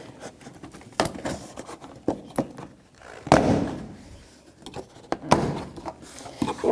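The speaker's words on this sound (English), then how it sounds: "Now with the trim tool, I'm going to start to unpop the door panel" A plastic trim tool pops the door panel clips free on a 2006-12 Toyota RAV4 front door, giving a series of sharp, close snaps and thunks at irregular intervals with quieter handling noise between them.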